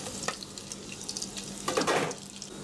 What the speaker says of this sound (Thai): เจียวกระเทียมเจียวนะครับ